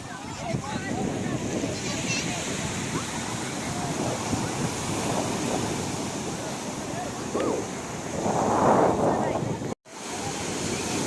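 Sea waves washing in at Girgaon Chowpatty beach in Mumbai in rainy weather, a steady surf roar with wind buffeting the microphone, people talking nearby throughout.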